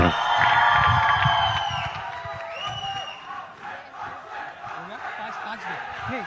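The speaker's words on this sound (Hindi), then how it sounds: "बेटा प्रभुदेवा, जोरदार तालियां।" A packed crowd at a Bollywood film trailer launch cheers, whoops and shouts loudly at first, then settles into a lower, restless murmur of voices and occasional calls.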